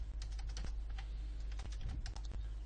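Close, steady typing on a computer keyboard as code is entered, with quick irregular key clicks over a low background hum and no talk.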